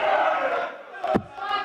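A darts crowd roars and chants loudly after Luke Littler's bullseye finish at the Super Series, a dense sustained cheer with a sharp burst partway through.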